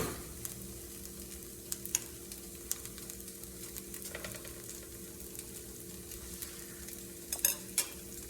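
Butter sizzling and frying in a pan with homemade hash browns, a steady low crackle with occasional sharper pops and scraping stirs, close and fairly quiet with no talking.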